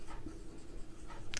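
Marker or chalk scratching across a classroom board during a geometry lesson on lines and angles, a steady close scraping stroke lasting over a second with a brief sharper squeak near the end.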